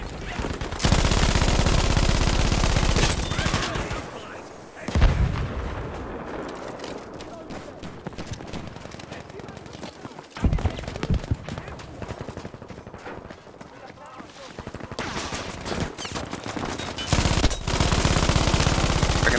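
A medium machine gun in Battlefield fires long rapid bursts that are loud and close at the start and end, with a quieter stretch of scattered shots and a distant boom in between.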